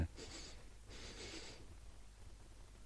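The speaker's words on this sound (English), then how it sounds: "They sniff them." Two breathy sniffs, one short and one longer, snuffle close by from video game creatures, then a quiet low hum carries on.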